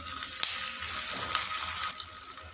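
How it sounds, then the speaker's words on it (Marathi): Water is poured into a pan of vegetables and tomato for upma, a steady splashing rush marked by a couple of sharp clinks, then eases off. "तर यामध्ये पाणी घालूया"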